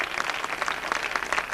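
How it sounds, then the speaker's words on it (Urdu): A crowd applauds at a school's founding anniversary event, a short burst of dense, even clapping from an audience indoors. "بھرپور تالیوں میں جناب"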